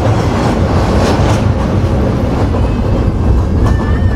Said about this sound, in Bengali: হার্ডিঞ্জ ব্রিজের উপর আমাদের ট্রেনের গতি তেমন একটা পাচ্ছি না